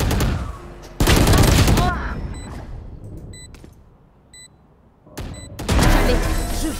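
Gunfire in a Valorant match: loud, rapid bursts of shots open and close the passage, with a quieter stretch between them marked by short electronic beeps.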